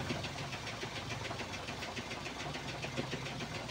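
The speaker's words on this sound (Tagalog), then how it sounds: "umandar na yung makina natin" A steady, rattling wing van truck engine idles close by, a continuous rumble with a regular knocking pulse and no voices.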